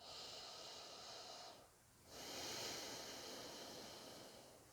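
Slow, forceful breathing through one nostril during an alternate-nostril breathing exercise, heard as a long airy inhale, a short pause, then another drawn-out breath, close and fairly quiet with no speech.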